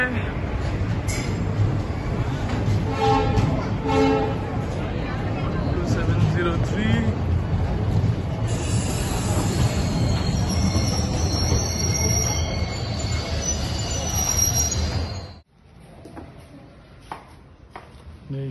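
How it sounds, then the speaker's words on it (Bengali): A train arriving at Secunderabad railway station, loud rumbling wheels with long high metallic squeals that cut off abruptly, leaving quieter platform ambience; no speech is evident over the noise. "ট্রেন ঢুকছে।"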